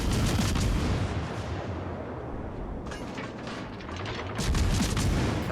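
Naval guns fire in World of Warships Legends, a dense continuous roar of booming shots and rumbling blasts that swells and fades, loud and close, with no talking.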